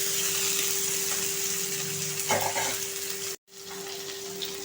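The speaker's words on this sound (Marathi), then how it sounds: "ही देखील आपण 5 मिनटं फ्राय करून घ्यायची आहे" Okra (bhendi) frying with onion in a pan, a steady soft sizzle with a brief stirring scrape, a constant background hum throughout and a momentary dropout near the end.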